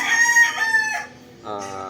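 Roosters crow nearby at a market selling chickens, one long call followed by the start of another, loud and clear with no talking.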